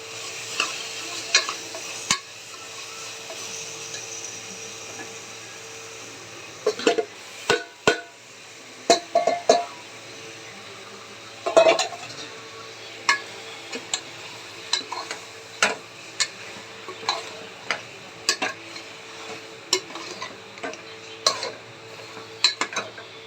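Chicken is mixed with yogurt, masala powder, chili and turmeric, giving soft wet squelches and irregular clicks against the bowl. The sounds stay close and fairly quiet, with no one talking.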